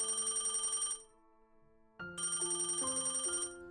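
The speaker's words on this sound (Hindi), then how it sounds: "सुबह सुबह फोन की बेल बजी।" A telephone ringing early in the morning: two bursts of bright, warbling electronic bell tone separated by a brief pause, close and clear, with no voices.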